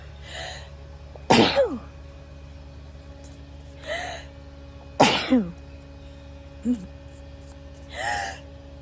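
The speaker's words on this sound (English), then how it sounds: "Oh, I'm gonna sneeze." A few sharp, forceful hay fever sneezes burst out close up, separated by quiet breaths and softer gasps, with a low hum underneath.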